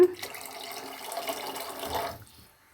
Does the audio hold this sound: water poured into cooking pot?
yes